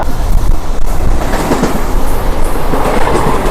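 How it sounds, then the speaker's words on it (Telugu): Anand Express passenger train on a route between Triveni Central and New Delhi rolls past close by, a loud continuous rumble with clickety-clack wheel beats and steady rail noise throughout. "సో ఈ ట్రైన్ వచ్చేసి మనకు ఆనంద్ ఎక్స్ప్రెస్ ట్రైన్ ఇది."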